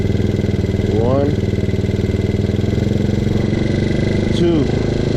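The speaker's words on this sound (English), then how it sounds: "You hear how the RPM races up? That's how you know it likes it." A Tao Tao scooter engine runs loud and close, idling steadily with a quick rev that climbs and falls early on, then another brief rise near the end.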